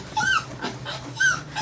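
A dog whimpers during grooming: two short, high, whiny cries about a second apart, close and fairly faint, with soft rustling between.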